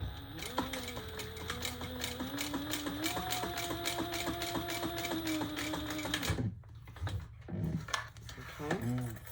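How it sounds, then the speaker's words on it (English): Sewing machine stitching rows along the front of a fabric traveler pouch: a steady rapid mechanical whir that runs for several seconds, then stops and gives way to short start-stop bursts, with a voice talking over it. "We're going to do 2 rows of stitching on the front."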